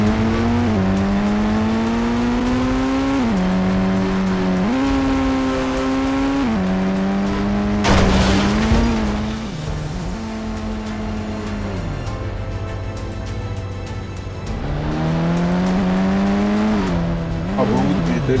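A car engine in the video game Indian Bike Driving 3D revs up repeatedly through rising gear shifts, with a loud burst of tyre noise midway, sustained and close throughout.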